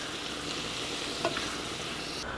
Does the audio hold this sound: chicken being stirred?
yes